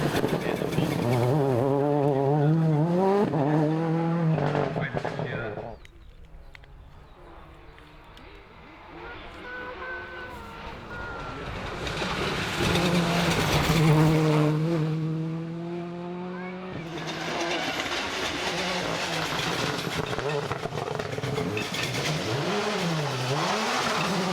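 Rally car racing on a tarmac stage of a Scottish rally championship event, the engine revving hard with pitch sweeping up and down through gear changes, dropping briefly to a quieter stretch before surging loud again.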